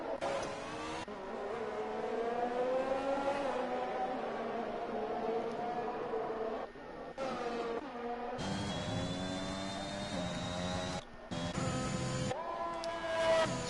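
AlphaTauri Formula 1 car in the F1 2021 racing game at the British Grand Prix circuit, a loud high-pitched engine scream rising and falling through gear changes as it drives past, with brief dips between shifts and no talk.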